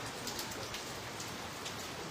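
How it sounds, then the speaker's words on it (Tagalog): Heavy rain pours steadily in a dense, hissing wash with scattered drops pattering on a surface, no voices. "Lakas ng ulan."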